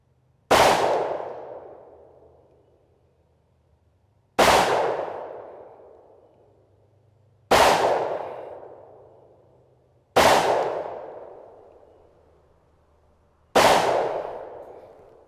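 Five sharp, loud shots from a Springfield Armory XD-M Elite 4.5-inch OSP 10mm pistol ring out on an outdoor range, spaced about three seconds apart, each with a ringing decay and no talking.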